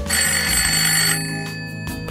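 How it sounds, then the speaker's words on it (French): A telephone rings with a loud, bright, bell-like tone that sustains for about a second and then fades, with a low sustained tone underneath. "Le téléphone sonne"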